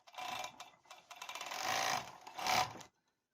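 A sewing machine stitches a few short runs along the edge of a quilted fabric drinks coaster, giving faint bursts of rapid mechanical clatter with brief pauses between them.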